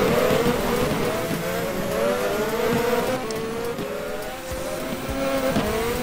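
Race cars in the Formula Holo racing video game, a tight pack of engines droning and shifting pitch as they brake and accelerate through tight corners at the Valencia and Marina Bay circuits, steady and continuous without talk.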